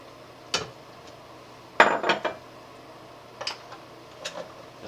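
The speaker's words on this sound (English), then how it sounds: "The stabilizer goes in." Liquid stabilizer poured into a C-41 film developing tank, a few sharp plastic clunks and a short splashing pour, close and clear against a quiet room.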